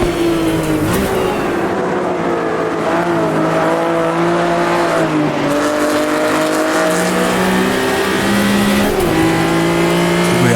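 Race cars in Automobilista 2 roar continuously at close range, engines revving and shifting through rising and falling pitches as a pack of cars including Corvettes jostles nearby.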